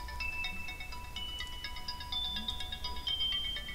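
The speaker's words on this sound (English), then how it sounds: "Someone's messaging me." A phone's text message notification tone chimes as a series of bright electronic tones over a low hum, fairly quiet and with no talking.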